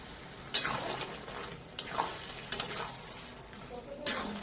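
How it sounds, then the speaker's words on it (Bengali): Taro greens with boiled chickpeas and green chillies sautéing in a pan, a steady sizzle broken by several sharp spatula scrapes and knocks at irregular intervals. "ভালো করে কষবো, আরো কষা হবে।"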